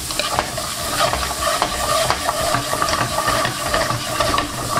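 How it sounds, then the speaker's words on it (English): Onions, green peppers, red chili and spring onion whites sauté in butter and oil for tandoori chicken wings. A steady, close sizzle runs throughout, broken by repeated scraping stirs. "We're gonna lightly saute these for a few minutes."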